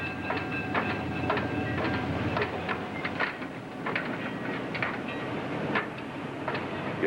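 Steam locomotive and railroad cars running on track, a steady rumbling roll with repeated clickety-clack wheel beats over rail joints, sustained and fairly close throughout.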